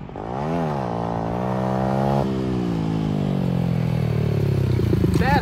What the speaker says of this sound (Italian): Il rumore da tua moto.